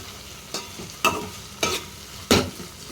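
A spatula stirs capsicum tomato curry in a pan over a soft sizzle, making four distinct scraping strokes spaced about half a second apart, close and clear, with no talk.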